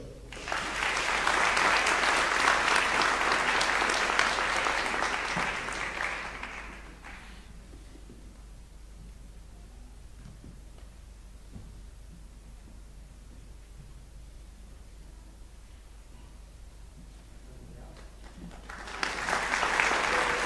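Audience applause for scholarship recipients rings out in a full burst lasting about six seconds, fades to a quiet hall for a long stretch, then rises again in a fresh wave of clapping at the end.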